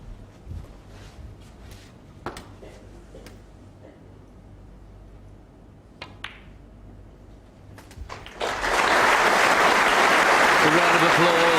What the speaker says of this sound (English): A round of applause tells you they know, we know, Hendry knows.